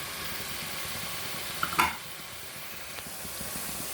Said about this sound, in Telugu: టమాటా ప్యూరీ వేసేద్దాం.